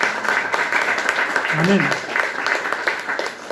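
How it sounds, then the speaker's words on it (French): Congregation applauding in a church service, a steady dense clapping wash throughout with a voice speaking briefly over it. "Vous pouvez l'applaudir fort, notre Seigneur."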